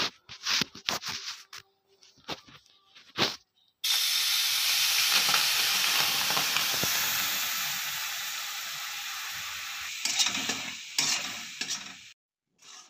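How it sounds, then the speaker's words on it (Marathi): Ginger paste mixture for alepak barfi cooks on full flame in a hot wok, a loud continuous sizzle and hiss with scraping stirs, preceded by sharp clattering knocks and ending with a few more stirring scrapes. "आता हे मिश्रण सतत हलवत आपल्याला हे शिजवून घ्यायचं आहे।"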